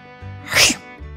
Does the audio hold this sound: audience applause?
no